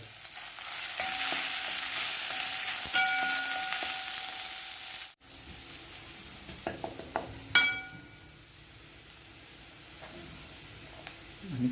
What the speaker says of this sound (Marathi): तर आपण तेल गरम करत ठेवलं आहे. हे आलं कापलेलं आपण टाकून देऊ. हलवूया जरा.